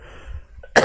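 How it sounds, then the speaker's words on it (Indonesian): A single short, sharp cough bursts out at the very end after a near-silent moment, close to the microphone during a Quran recitation lesson. "Maaf, saya batuk dulu sedikit."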